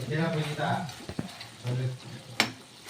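Spicy chicken pepper dry being stirred in a pan with pepper powder, soft sizzling with a few spatula scrapes and knocks, while a voice speaks over it at the start and again midway.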